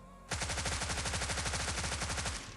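A Thompson submachine gun in PUBG Mobile fires one sustained automatic burst of about two seconds. The shots are loud, rapid and evenly spaced, then cut off abruptly.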